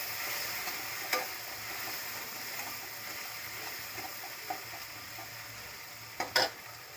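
Ginger paste and spices frying in a pan, a soft continuous sizzle with a few sharp scrapes and clinks of a spoon stirring, quiet and close, with no voices.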